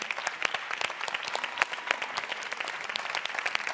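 An audience at a neapolitan talent show claps for the contestants, dense steady applause from many hands at moderate distance, continuous throughout with no voices standing out.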